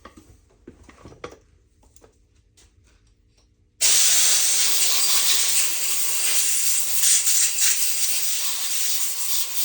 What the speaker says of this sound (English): Once you spray it, hit it with some shop air.